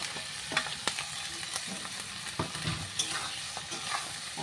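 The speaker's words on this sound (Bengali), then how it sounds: "তো এখন আমি এখানে আলুটা দিয়ে দেবো।" Potatoes hit a pan of frying spices and sizzle loudly and steadily, with repeated scraping stirs of a utensil over the crackling oil.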